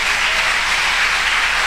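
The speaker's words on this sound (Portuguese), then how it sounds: "Vamos dar um aplauso a Jesus." A church congregation applauds for Jesus during a sermon, a dense, steady wash of many hands clapping together at full volume with no break across the moment.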